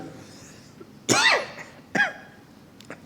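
Two sharp, raspy coughs close to the microphone about a second apart, followed by a faint short throat sound, in a quiet room.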